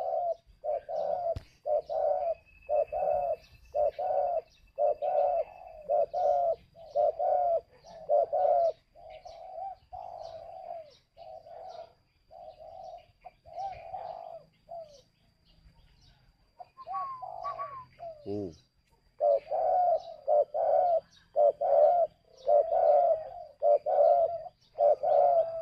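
Pet pigeons cooing close by in a steady series of soft, rhythmic coos, with a short pause midway and a brief rustle or thump before the cooing resumes, with no talking.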